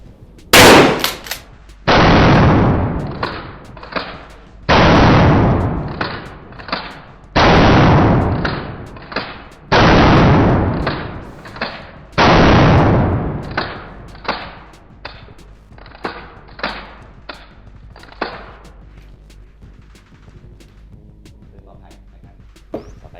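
A Hatsan Escort Aimguard shotgun fires 00 buckshot at a target about fifteen metres away. A string of loud, sharp blasts comes at a steady pace, followed by fainter clicks and a quiet tail.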